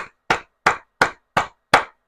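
A church congregation clapping together in a steady rhythm, six sharp synchronized claps, loud and close, with no voices.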